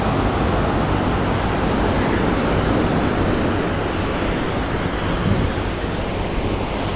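Ocean surf on a hard-packed beach at Encinitas, San Diego, a continuous loud wash of breaking waves mixed with wind buffeting the microphone, with no distinct individual breakers.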